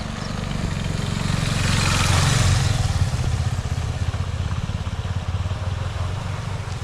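Two motorcycles, a Dominar 400 and a KTM 390 Adventure, ride along a narrow village path; a loud, close engine drone pulses steadily, swelling briefly before settling into an even throbbing hum.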